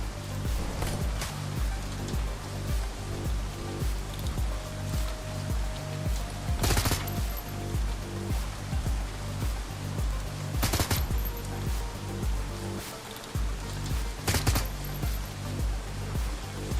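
Rapid, sustained gunfire in the Hong Kong–set Shadowrun game, dense automatic bursts rattling continuously with a few louder sharp cracks standing out, close and loud throughout.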